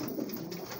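Pigeons on a rooftop loft coo softly and steadily in a low, continuous murmur, fairly faint and with no talk over it.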